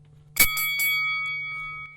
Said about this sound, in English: Timekeeper, please ring the bell.